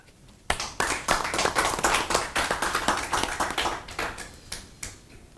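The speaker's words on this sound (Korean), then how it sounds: "박수로 좀" Audience clapping at a political debate forum on general election issues, a burst of many hands that starts abruptly and runs steadily, fairly close and moderately loud, with no talk over it.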